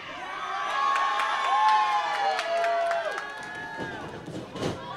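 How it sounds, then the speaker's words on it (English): Crowd at a live Ryse Wrestling show cheering and shouting through the clip, with whistles and raised voices swelling over steady arena murmur and a commentator talking throughout. "I think this crowd's getting under Holloway's skin a little bit."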